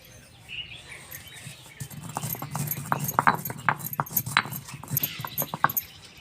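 Rhythmic, knocking thuds of peanuts pounded in a stone mortar and pestle, irregular but steady, starting after a quiet opening and continuing with faint background chirps.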